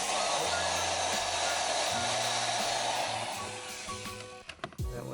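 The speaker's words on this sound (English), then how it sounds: "Vacuum this out." A vacuum cleaner runs inside a Lexus IS300 during an aux adapter install, a loud steady whine and hiss that drops away near the end into a few clunks and handling noises.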